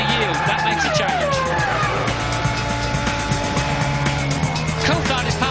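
Formula One cars racing at the start of the 2000 Spanish Grand Prix, several high-pitched engines screaming and shifting pitch as they sweep past, with a commentator talking over the steady roar.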